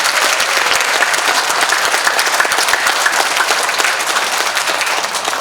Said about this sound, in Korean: 박수 한번 부탁합니다. 박수.